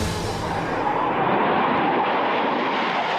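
Soviet piston-engine fighter aircraft flying past, a loud continuous engine roar with broad rushing noise that holds steady and close throughout, no voices.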